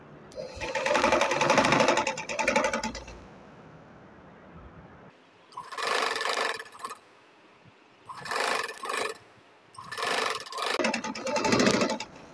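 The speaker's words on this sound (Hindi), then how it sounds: "ज़रा मशीन को आराम आराम से चलाते जाएं।" A sewing machine stitches a cord into fabric in four loud, steady runs of whirring, separated by short quiet pauses.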